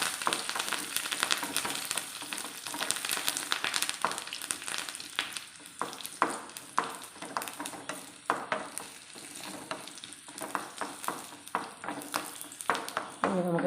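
Dried red chillies and curry leaves fry in hot oil over golden onions for a Kerala milk jackfruit dish, a steady close sizzle broken by repeated scraping and stirring clicks, with no talking.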